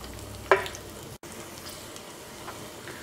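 Finely chopped shallots dropped into hot ghee, with a brief burst of frying at the start, then a low, steady sizzle running through the rest.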